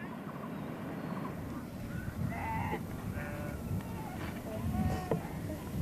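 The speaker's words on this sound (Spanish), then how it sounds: "Los gurún reúnen sus ovejas, unas 12 por familia, unas 200 o 300 por pueblo, en grandes rebaños" A flock of Gurung villagers' sheep in the Nepal Himalaya, several bleats scattered across a steady low rumble of movement, moderately distant and faint, with a voice speaking over them.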